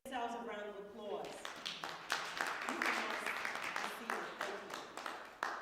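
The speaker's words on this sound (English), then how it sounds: "Give yourselves a round of applause." A voice speaks briefly, then a crowd at an MLK Day celebration breaks into sustained clapping and applause that continues to the end.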